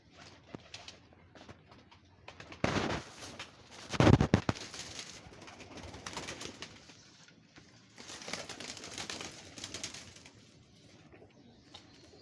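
Pigeons coo in short bursts, a loud close burst near the middle, over a quiet background with some rustling and handling noise.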